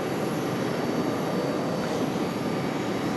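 Aircraft engine roaring steadily as a plane takes off from runway 5 right at Raleigh-Durham International Airport, a loud, continuous broadband rumble with no break across the stretch.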